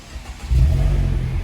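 A car engine cranks and catches partway through, then settles into a loud, steady idle nearby, with no talking.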